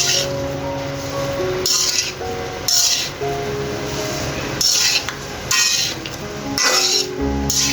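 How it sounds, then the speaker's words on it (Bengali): Onion, garlic, green chilli and chopped teasel gourd frying in mustard oil, a steady close sizzle with bursts of stirring and clinking utensils against the pan throughout. "এখন সব কিছু ভেজে নেব তেলের মধ্যে ভালো করে"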